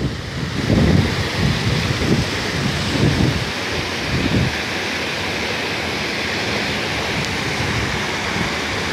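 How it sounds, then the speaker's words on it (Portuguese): Water from a burst water main gushes in a loud, steady roar as it floods a house, a continuous torrent that swells in the first few seconds and then holds, with no voices. "Olha que água, bicho."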